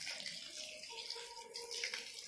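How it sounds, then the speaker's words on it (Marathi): Water being poured onto garden plants on a cool morning, a steady running splash and trickle with a few faint tonal whistles alongside, moderately quiet and continuous without speech. "आता झाडांना पाणी घालायचं काम चाललं आहे."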